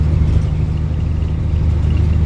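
Steady low diesel rumble and exhaust drone from a 1985 Ford F-8000 truck with a CAT 3208T engine, heard from inside the cab, continuous and fairly loud with no talking.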